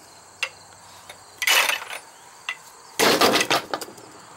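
A Ridgid pipe threading die ratchets on gas pipe for a riser, in short bursts of clicking and grinding with sharp ticks between, close and fairly loud with no talk.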